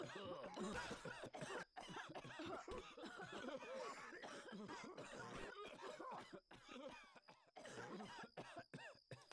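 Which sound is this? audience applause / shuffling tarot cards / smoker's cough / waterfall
smoker's cough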